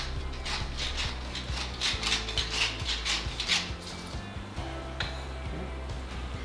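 Hand pepper mill grinding cracked black pepper over a shakshuka, a steady run of rapid ratcheting clicks and crunches up close, with low kitchen hum beneath and no voices.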